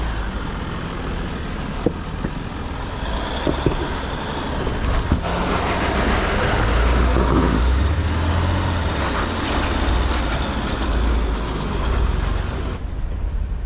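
Engine noise from a Jeep Wrangler Rubicon driving through water on the Rubicon Trail, a steady rumbling drone that swells in the middle with low splashing and rough knocks, continuous and without speech.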